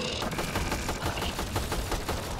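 Rapid weapon fire in the game Mass Effect: Andromeda, a quick rhythmic string of sharp shots repeating steadily and close, with no voices.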